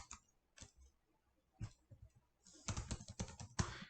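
Bursts of typing on a computer keyboard, a few isolated clicks followed by a quicker run of key taps, close and fairly quiet.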